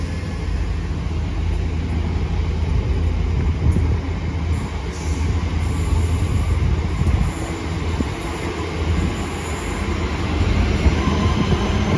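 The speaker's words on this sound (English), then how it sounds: "there goes the 1326 West Midlands Railway service to, so the 1226 West Midlands Railway service to Lichfield Trin Valley" A West Midlands Railway Class 323 electric unit rolls through University station in Birmingham with a steady, continuous low rumble and faint high wheel squeal, close by and unbroken, with no voices.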